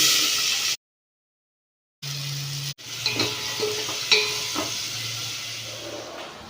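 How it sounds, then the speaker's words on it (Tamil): Onions with chili and salt sizzle and fry in a hot pan, a steady crackling hiss with stirring scrapes, after a brief silent gap near the start. "சால்ட்டு சேர்த்து நல்லா வதக்கி விட்டுக்குங்க."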